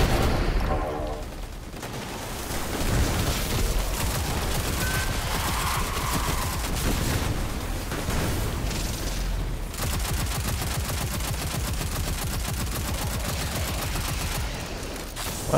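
A grenade and gunfire burst in the Season of the Seraph intro mission of a shooter video game: loud, sustained volleys of rapid shots and blasts that keep rolling with only brief lulls.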